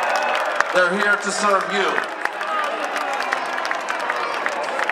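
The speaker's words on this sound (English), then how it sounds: "Let's give a big round of applause to law enforcement." At an outdoor live concert at EarthFest in Boston, a crowd claps and cheers in scattered bursts while an amplified voice speaks over the stage PA.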